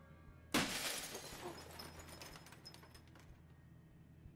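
Glass shatters loudly in the horror video game Fears To Fathom, a sudden crash followed by several seconds of tinkling shards falling and settling.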